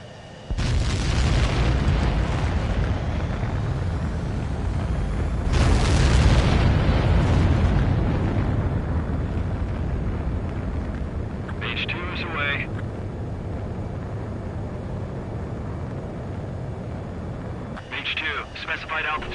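Video game aircraft launching for takeoff: two loud roaring blasts of engine thrust surge early, then a sustained heavy rumble carries on, with brief radio-like chatter bursts appearing later.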